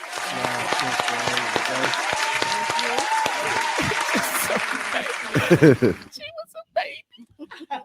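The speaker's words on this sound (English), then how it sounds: "let's clap it up for my little cousin" Audience claps loudly for a little cousin at a family gathering, with a steady wash of applause, laughter and chatter, then the clapping stops and scattered voices and a few claps remain.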